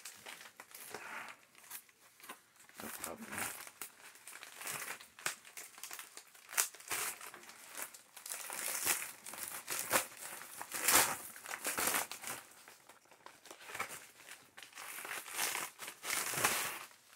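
Paper envelope being torn open by hand, close and fairly quiet, with repeated crinkling, rustling and ripping bursts of uneven rhythm running throughout.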